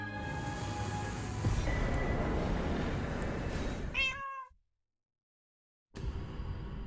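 A cat gives one clear, rising-and-falling meow near the end of a stretch of steady background noise, then everything drops to silence before the noise resumes.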